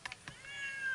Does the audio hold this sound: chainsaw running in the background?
no